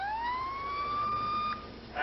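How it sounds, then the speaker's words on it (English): A single police car siren wailing in a steady rising tone with clear harmonics, heard from a moderate distance and fairly faint, with a brief break near the end. "They're putting on individual sirens."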